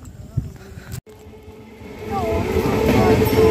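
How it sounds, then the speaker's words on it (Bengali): A train passes near Champahati on its way toward Canning, its rumble rising from faint to a loud, steady roar that fills the second half, after a stretch of background noise. "এই ট্রেনটা যাচ্ছে ক্যানিং এর দিকে"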